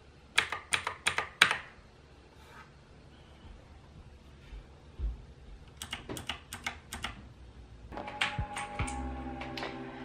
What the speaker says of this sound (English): They are both clicky mechanical keyboards, but you can hear the difference in sound.